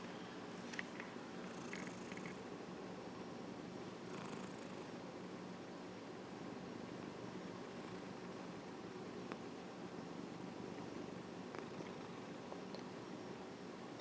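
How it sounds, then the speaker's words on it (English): A cat with renal failure purrs steadily and softly up close while lying comfortably, a continuous low rumbling drone with faint rustling and occasional small sounds on top. "He's purring."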